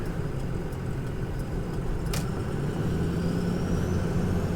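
A 2005 Ford Excursion Limited with a 6.0L Powerstroke diesel engine idling steadily nearby, a low constant rumble with one brief sharp click partway through and no talk.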